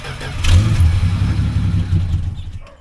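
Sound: 1967 Plymouth Valiant engine starting and running

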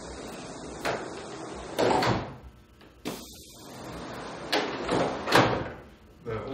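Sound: pneumatic cylinders sliding rooftop solar panels on drawer slides

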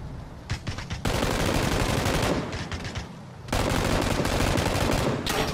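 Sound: gunfire in PUBG video game

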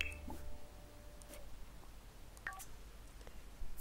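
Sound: phone dialing in the video game The Sims 4

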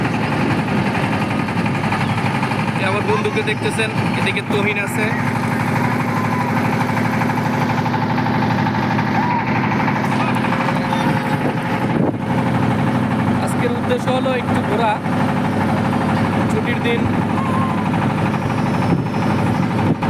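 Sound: motorboat engine running on river trip

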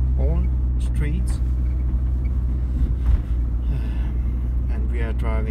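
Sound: car driving along the Boulevard

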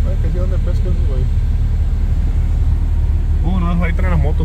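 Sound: pickup truck with snow plow engine rumbling

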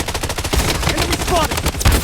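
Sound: gunfire in the video game Blood Strike

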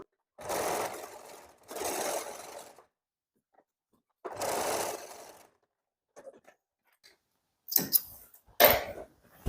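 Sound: sewing machine stitching the side seam of a blazer

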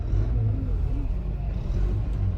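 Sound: heavy road traffic at Bhiwandi bypass

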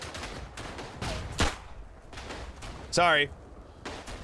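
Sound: gunfire in the video game Verdun

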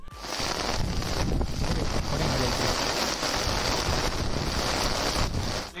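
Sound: heavy rain at a Kodaikanal campsite

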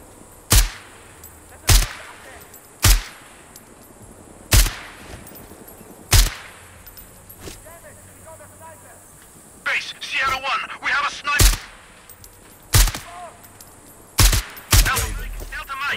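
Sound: gunfire in the video game Sniper Ghost Warrior Contracts 2

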